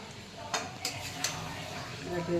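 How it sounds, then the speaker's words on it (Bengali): Mutton sautéed in a pan with a metal spatula, with a low sizzle broken by a few sharp scrapes and clinks against the pan, fairly quiet throughout. "কষাচ্ছি দশ পনেরো মিনিট কষিয়ে নিয়ে তারপরে দিয়ে দেবো"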